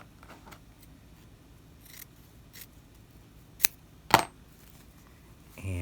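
Scissors snip through wool coat lining fabric, a few sparse close cuts with one sharp crisp snip standing out, against a quiet room background.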